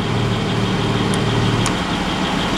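A sports car idles with its exhaust valves open, heard from inside the cabin as a steady, loud, low rumble with a constant hum and brief faint high clicks.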